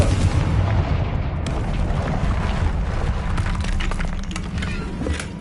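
Confringo fire spell blasting in Hogwarts Legacy, a loud, dense rumbling explosion that stays heavy and sustained throughout, with crackling debris bursts layered over a deep low roar.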